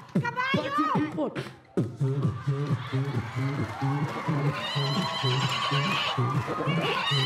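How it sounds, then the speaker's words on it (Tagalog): A horse neighs sharply and close at the start, then rhythmic music with a steady beat and a cheering crowd take over during a festive New Year's television show. "Kabayo yun, kabayo! Kabayo!"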